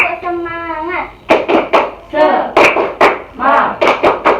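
Fourth-grade pupils in a classroom do a rhythmic clapping routine: after a brief sung voice, a burst of sharp, close claps arrives in quick groups, mixed with children's voices.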